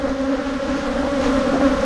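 Honey bees drone in a steady, close buzz at an open hive during an October inspection, a continuous hum holding level throughout with no talk over it.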